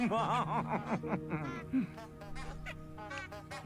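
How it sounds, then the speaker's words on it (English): Quacking, goose-like honks from flowers in the Hogwarts Legacy video game, a run of rapid nasal calls that trails off into a few scattered, fainter honks, heard alone without talk. "It was the flowers making the quacking noise."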